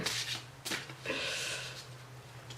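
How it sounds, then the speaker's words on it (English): Tarot cards being shuffled by hand, a close soft rustle with repeated riffling bursts and quick slaps of card stock, with no talk over them. "so that's shuffling for me"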